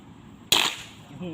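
A fish-shooting crossbow fires at a target with a single sharp, loud snap, followed by a short fading rattle and a quiet voice.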